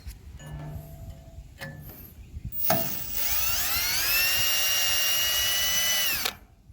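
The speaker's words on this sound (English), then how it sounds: "I'll start with a small drill bit and work my way up." A power drill with a small bit bores a hole into a trailer, spinning up after a few clicks and handling sounds into a steady, close, whining drone that holds for about three seconds before it stops.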